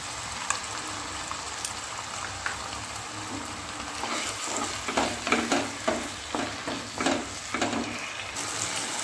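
Washed mung dal tipped into a hot frying pan with chopped tomato for a katla fish-head muri ghonto, giving a steady sizzle and fry with stirring scrapes that grow louder and more rhythmic toward the end.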